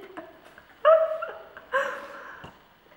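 A dog indoors gives two sharp barks with whining tones, close and fairly loud, separated by quieter whimpers and small sounds.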